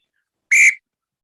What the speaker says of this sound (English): we have the whistle, the referee's whistle,